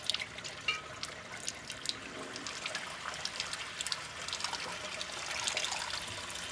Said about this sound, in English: I'm gonna turn the water pressure up a little bit, and notice I'm just starting to make some RO water now.